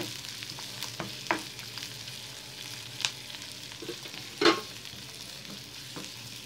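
Half an onion sautéing in a pan for Indian-style white sauce pasta, with a steady low sizzle, occasional stirring scrapes and a sharper clatter near the end, no voices.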